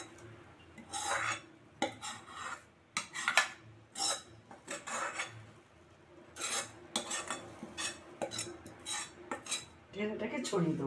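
Mango pulp being poured and spread in a tray for homemade aamsatto, heard as repeated scraping and clinking of a utensil against the tray in uneven bursts, close and moderately loud, with no voices.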